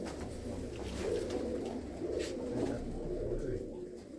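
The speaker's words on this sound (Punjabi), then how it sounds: "ਕਬੂਤਰੀ ਵੀ ਚੰਗੀ ਆ" A loft of domestic hobby pigeons coos in a steady, overlapping low murmur, moderately close and continuous throughout, with no talk over it.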